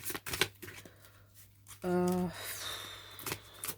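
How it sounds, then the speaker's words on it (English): Playing cards are shuffled up close in quick, crisp riffling bursts, with a short hummed vocal sound partway through. "Just by the way the cards are shuffling."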